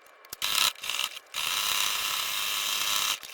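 A sewing machine runs a zigzag stitch along the edge of a fabric tote bag in short, close bursts of rapid mechanical clattering, with a few brief pauses before one longer steady run.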